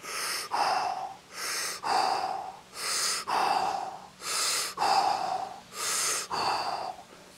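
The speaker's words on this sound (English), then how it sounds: "Nice full breaths in." Deep, full breaths during a breathing exercise, seven long even inhale-exhale cycles repeating in a slow regular rhythm, close and clear with no talking.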